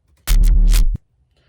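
A short synth hit processed with a flanger and filter automated by an LFO, plus a little distortion and white noise, one loud burst under a second with a swept, noisy top and an abrupt end.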